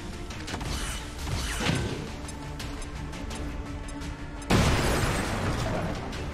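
A frag grenade explodes in a tactical video game, a sudden loud blast hitting partway through and leaving a dense, roaring burst of noise that lingers, following a stretch of busy mechanical battle sounds.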